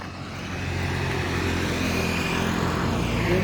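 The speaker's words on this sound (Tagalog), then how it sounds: "may dumaan na naman na kotse" A car passes by on a dark nighttime road in Carmona, its steady broadband road noise and engine rumble swelling gradually and holding close, with no talking.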